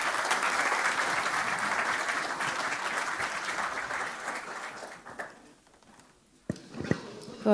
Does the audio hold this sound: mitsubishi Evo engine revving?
no